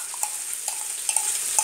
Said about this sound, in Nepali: अब यो सबैलाई हालेपछि मजाले राम्रोसँग चलाउनु होला एकछिन, तेलमा मजाले फ्राई गर्नु।